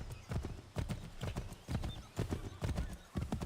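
Horse hooves clip-clop steadily at a walking pace in Assassin's Creed 3, with regular paired hoofbeats close up and fairly quiet.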